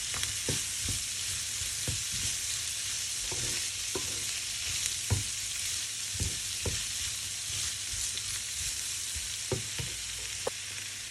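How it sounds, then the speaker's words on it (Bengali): Capsicum and egg noodles sizzle and fry in a pan while a utensil stirs them at intervals, sharp scraping knocks cutting through a continuous bright hiss. "আবারও একটু নেড়ে চেড়ে দিচ্ছি।"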